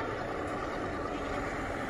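Passenger train engine accelerating on a Thai ordinary service, a loud steady low diesel rumble and drone heard from inside the carriage, continuous throughout.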